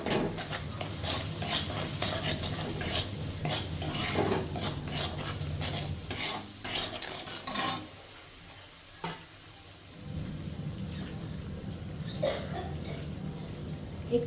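Cumin and coriander paste sautés in a pan for a butter mushroom dish, a close sizzling hiss broken by repeated scraping stirs of a spoon against the metal, with a short quieter stretch in the middle and no talking.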